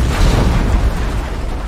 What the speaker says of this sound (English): there has to be an explosion